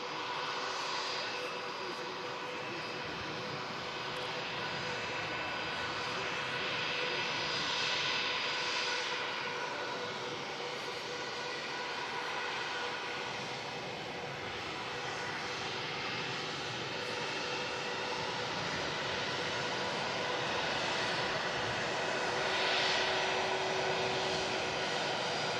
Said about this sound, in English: we also have an EasyJet on the taxi out for Split.